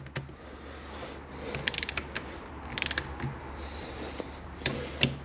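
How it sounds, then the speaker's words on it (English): A ratcheting torque wrench set to 20 newton meters tightening bolts on an Aprilia RS 125 Rotax 122 engine, close and crisp, with short bursts of rapid clicks and a few single clicks. "Let's set the torque wrench to 20 Newton meters."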